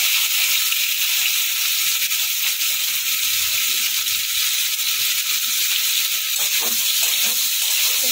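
Potato and eggplant pieces with turmeric frying in hot oil in a pan, a steady bright sizzle holding at a constant level throughout, with faint scrapes near the end and no voice.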